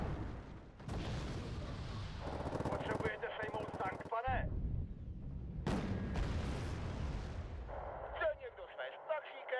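Battle sounds from the Wargame Red Dragon strategy game: Mi-25 helicopter rocket pods and gunfire, a dense roar of rapid bursts and booms that cuts in and out in sections, loud throughout with no clear pauses.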